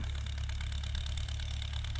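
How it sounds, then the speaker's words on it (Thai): A farm tractor ploughing a field drones steadily with a continuous low engine rumble and a mid-range mechanical whir, close and even throughout. "ก็รถไถก็ทำงานแบบ สบายๆนะพี่น้อง"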